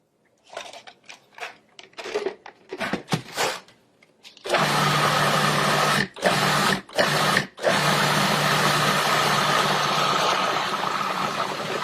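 A food processor blending a creamy cilantro mixture: a few short pulses followed by a loud, steady motor whir with brief pauses, running close and alone without talk.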